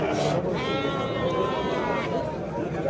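Goats bleating at a busy livestock market in Angren, several wavering, fairly close cries over the murmur of people talking among the animals.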